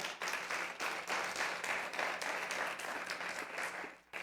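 A church congregation at a Spanish-language service gives a loud round of applause, steady crowded clapping that carries for several seconds before trailing off.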